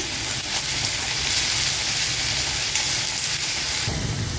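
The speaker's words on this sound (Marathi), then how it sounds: "आणि लालसर असा कांदा परतून घ्यायचा" Salted onion sautés in a pan with a loud, dense, continuous sizzle and hiss, close and unbroken, with no voices.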